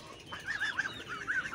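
Hens cluck softly in a farmyard, a few short rising calls at moderate distance over quiet background.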